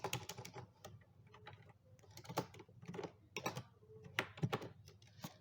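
Fast, irregular bursts of clicking keys sound up close as someone types C code on a computer keyboard. The tapping comes in clusters with short pauses between them and no voice.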